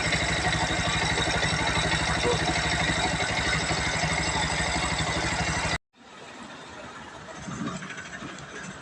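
A Bajaj Pulsar NS 125 motorcycle engine runs loud and close with a steady rattling mechanical drone, then cuts out abruptly and a quieter, lower engine sound takes over.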